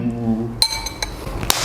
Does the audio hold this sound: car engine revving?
no